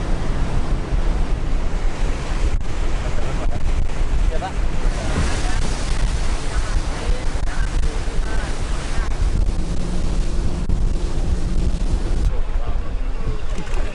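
A fast boat travels at sea at about 40 knots, with loud wind buffeting the microphone and waves crashing and hissing continuously around the hull, drowning out most other sound.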